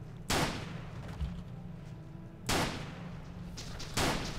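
Tiganov 2 gunshots in The Legend of Alfur, three sharp, loud reports spaced about two seconds apart, each with a short decaying tail over a low steady game background hum.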